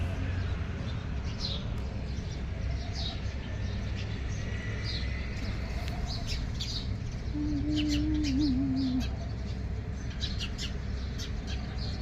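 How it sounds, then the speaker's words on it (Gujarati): House sparrows chirp in short, scattered bursts over a steady low hum, with a brief tonal whistle midway. "ચકલી ચીંચી કરી રહી છે"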